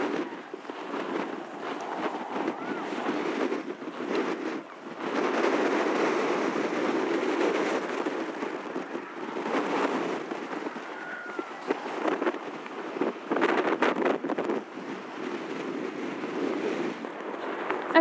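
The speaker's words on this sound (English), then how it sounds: "We were told that it was going to be windy on here." Strong sea wind at Brixham, Devon roars and gusts steadily in broadband bursts, with a surf-like wash underneath, loud and close throughout with no talking.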